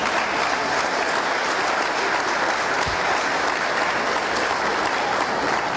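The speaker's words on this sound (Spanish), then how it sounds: "Fuerte el aplauso para la coquimatlense Ignacia Rosales Jiménez" Sustained applause from an audience at a solemn session of a state congress in Colima, dense steady clapping filling the room at an even level throughout.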